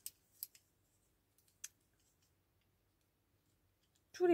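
Small plastic watercolour pans from a Winsor & Newton palette are prised open, giving a few sharp, close snaps and clicks with quiet gaps between them, until a voice comes in at the end.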